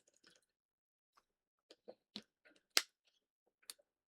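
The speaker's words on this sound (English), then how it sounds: "Starting off with clearing my throat." A few short throat-clearing grunts and rasps, close and fairly quiet, separated by pauses, with one sharper burst near the middle.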